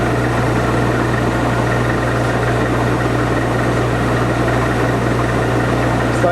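A metal lathe turning a back plate for a six-jaw chuck at about 300 RPM with a fine feed, giving a steady, continuous machine hum and drone with no break and no talk over it.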